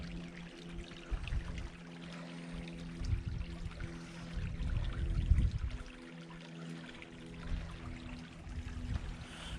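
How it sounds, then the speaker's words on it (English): A stream flows and bubbles steadily nearby, a continuous watery rush with gentle gurgling swells, heard alone without voices. "And that's the stream over there, I suspect."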